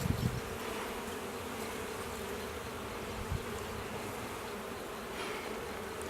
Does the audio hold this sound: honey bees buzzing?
yes